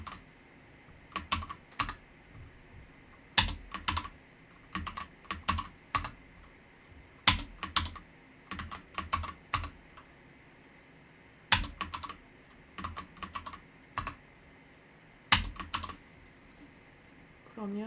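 Computer keyboard keys tapped in quick bursts while entering copy-and-paste shortcuts for an AutoHotKey planner page generator, close and crisp clusters of clicks separated by short pauses, fairly quiet overall.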